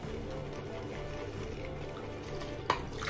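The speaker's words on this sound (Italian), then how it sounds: "Mettiamoci un po' d'acqua." Water running from a tap while preparing shaving cream for a second wet-shave pass, a steady continuous trickle and splash close by with a brief louder splash near the end.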